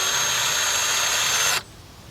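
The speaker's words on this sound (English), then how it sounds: "We're going to hold these and drill these out." A power drill with a 7/32 bit bores out a brake line fitting clamped in vise grips on a 2005 Chevy Impala. It gives a loud, steady high whine that stops sharply partway through, leaving a quieter hum.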